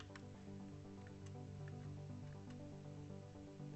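Minecraft water block being placed, giving soft squishy liquid splashes and drips, several brief faint plops over steady background music.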